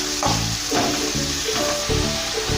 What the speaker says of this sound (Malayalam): അത് രണ്ടും കൂടെ ചേർത്തൊന്ന് വഴറ്റിയെടുക്കാം.